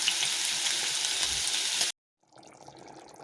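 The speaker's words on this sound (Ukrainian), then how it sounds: "Це обсмажуємо м'яско." Meat sizzles and fries in a pan with a loud, steady hiss, which cuts out abruptly and then returns more faintly as quieter crackling.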